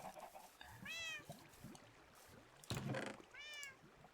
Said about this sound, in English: Oh, I got me a black cat